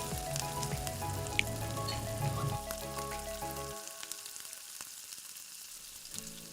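Pork hock frying with garlic and onion in a pan, giving a soft continuous sizzle with scattered crackles and a low background hum that drops out partway through, fairly quiet and close, without speech.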